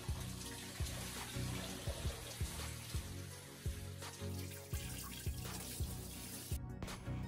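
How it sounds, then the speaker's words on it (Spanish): Cold running water rinses afro hair after a twist treatment, a steady faint stream with rhythmic splashes and pulses as the water hits the hair and falls, no talking. "luego retiro con agua, en este caso con agua fría a temperatura"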